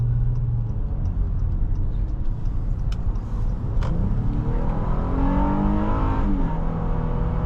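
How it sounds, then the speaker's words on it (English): A 2020 Honda Pilot V6 revving up through the gears, its pitch climbing and shifting through the VTEC crossover with a smooth rising growl over steady road rumble, heard from inside. "You can really hear that VTEC crossover noise"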